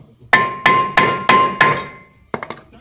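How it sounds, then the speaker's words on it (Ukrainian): Hammer blows on a Hyundai Santa Fe brake disc ring out metallically: five loud evenly spaced strikes, then a pause and a quick cluster of lighter taps, close and with no talk. "Потім беремо молоток, обстукуємо тормозний диск і знімаємо."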